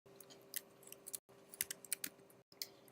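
Typing on a computer keyboard, quick irregular clicks of keys close and faint, in a few short bursts separated by brief gaps.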